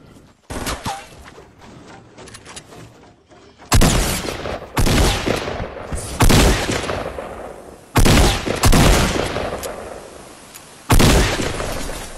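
Fortnite gunfire: loud, sharp shots and bursts in several separate clusters, each followed by a decaying tail, with quieter crackle between volleys and no talk.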